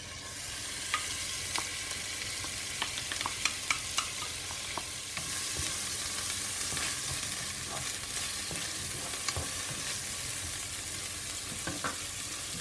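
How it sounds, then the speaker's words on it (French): Grated onion fries in about three spoonfuls of hot olive oil in a cooking pot, a steady loud sizzle with occasional stirring clicks and scrapes. "Je dépose dans l'huile l'oignon râpé."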